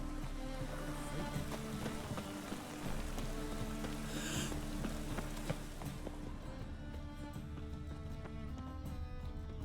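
Steady rain in The Witcher 3 falls throughout, a continuous wash of patter with horse hoofbeats clopping along and a constant game background hum, no speech.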